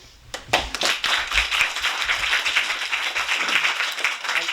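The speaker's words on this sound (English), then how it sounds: "could we have a special round of applause for our visitors all the way from Scotland?" An audience claps for visiting guests from Scotland at a local music and storytelling event, starting with a few sharp claps and swelling into close, lively applause that holds steady to the end.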